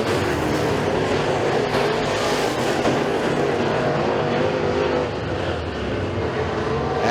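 Late model race cars roar down the back stretch during a heat race at Stateline Speedway, a dense, loud and steady engine drone from several cars that holds for the whole stretch without letting up.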